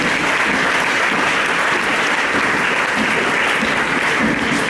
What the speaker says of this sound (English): all of you deserve a very big applause for your performance yesterday